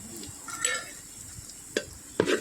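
Onions and tomato being sautéed in a pan, heard as a quiet background sizzle broken by a few brief scrapes of a spoon against the pan near the end.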